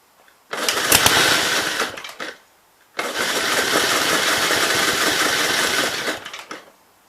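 A 1951 Gravely L engine with a fuel problem sputters into loud, rough running, cuts out, then restarts and runs raggedly for several seconds before dying again, close and dominant.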